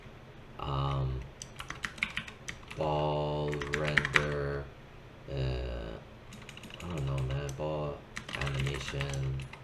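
Keystrokes on a computer keyboard clatter in quick bursts between stretches of someone talking, the clicks close and crisp, sometimes overlapping his voice.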